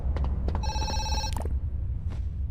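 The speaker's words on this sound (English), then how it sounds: "There's a phone call." A telephone rings in the horror zoo video game Zoochosis: a steady electronic ring lasting under a second, over a low ambient rumble with scattered clicks.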